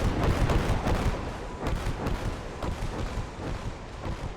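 Calliope rocket artillery barrage in Gates of Hell: Ostfront, a rapid rolling string of overlapping booms and thuds forming a continuous loud rumble for a few seconds, with no pause between impacts.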